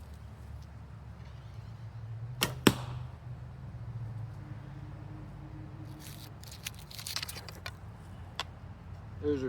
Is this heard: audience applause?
no